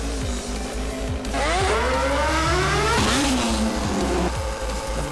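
A motorcycle in GTA, ridden through a desert area, revs loudly with rising and falling engine pitch, several sharp throttle sweeps over a constant drone and no speech.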